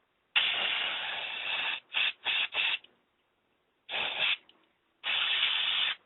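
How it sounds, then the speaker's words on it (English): Aerosol cleaner sprayed onto Tecumseh carburetor parts during a carb rebuild: a long close hissing burst, three short quick bursts, then two more sustained sprays separated by silence. "Spray it out again."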